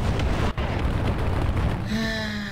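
An artillery shell strikes a tank in the mobile combat game War Thunder Mobile, giving a loud, sustained rumbling blast with a brief dropout, then a lingering hum as the roar fades.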